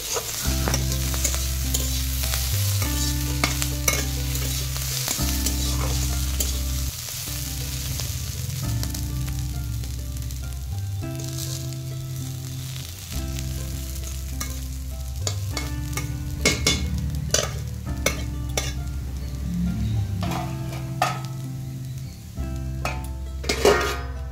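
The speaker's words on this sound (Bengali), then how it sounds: "আমি কিন্তু 1 থেকে 2 বার ঢাকনা দিয়ে আবার ঢাকনা তুলে আমি নাড়াচাড়া করে ভেজে নিচ্ছি" Vegetables fry in a pan with a constant sizzle while a spoon stirs and scrapes, knocking on the metal with clinks and taps under a low background hum.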